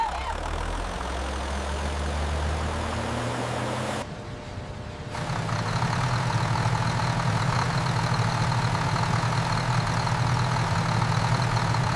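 A John Deere 8R 410 tractor engine runs steadily at close range with a deep low rumble, briefly dropping out around four seconds before resuming at a constant, slightly louder drone.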